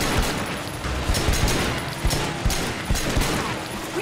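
Dense rapid gunfire in the open-world crime game Triad Wars during a vehicle chase, a loud continuous fusillade of overlapping shots with sharp bursts throughout.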